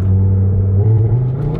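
Volkswagen Golf R engine in sport mode, a close, loud and steady deep rumble with a strong low drone and no voices over it.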